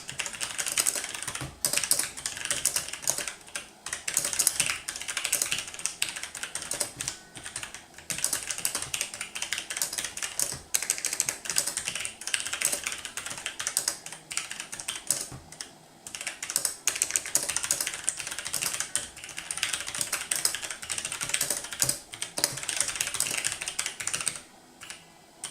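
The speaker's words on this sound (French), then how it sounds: "je vous laisse écouter le bruit des touches" Steady keystrokes on a Logitech G613 wireless mechanical gaming keyboard, a dense, continuous clatter of clicky keys with brief pauses, close and fairly loud throughout with no voices.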